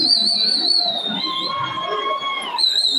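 A shrill whistle sounds steadily over a crowd's murmur at a university debate, its pitch shifting slightly midway, held for a few seconds.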